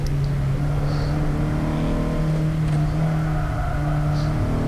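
Opel Kadett GT/E or Opel Manta B sports car driving hard on a race track, a loud, continuous engine drone heard from inside, steady with slight shifts in pitch and no talk.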